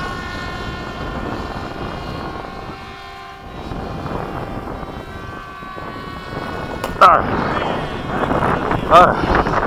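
Radio-controlled Battlewing model aircraft coming in to land, a steady droning whine with tonal harmonics that swells toward the end, with people talking over it.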